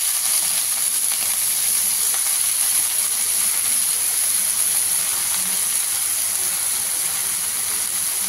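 Water lily stems, squeezed of water, go into a hot pan with chopped and slit green chillies, giving a steady, loud, continuous sizzle and hiss that carries on unbroken with no talking.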